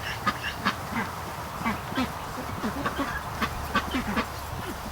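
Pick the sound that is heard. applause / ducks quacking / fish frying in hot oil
ducks quacking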